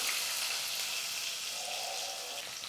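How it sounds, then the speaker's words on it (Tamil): Sliced onions sizzle in hot oil with mustard seeds, chillies and curry leaves, a steady close frying hiss with faint stirring, no voices. "இப்போ வெங்காயம் வந்து நல்லா வதங்கட்டும்"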